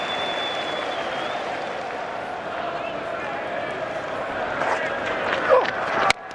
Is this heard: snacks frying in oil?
no